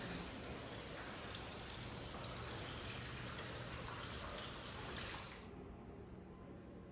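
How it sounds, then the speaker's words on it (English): Steady splashing of running water in a small courtyard, close and constant like a small fountain, with no talking. "I heard water running."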